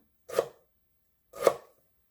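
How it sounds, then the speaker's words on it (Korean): Two separate, crisp knife strikes through a piece of ginger onto a cutting board, about a second apart, close and quiet. "생강 한 톨 조금 이렇게 썰어 줄게요"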